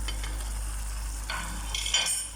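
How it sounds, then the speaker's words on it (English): Meatballs go into a simmering stew, with a soft continuous bubbling and a few wet stirring scrapes and splashes in a pot, close and fairly quiet. "I'm going to pour in the meatballs now."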